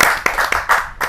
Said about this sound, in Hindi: जोरदार ताली के साथ हमें स्वागत करें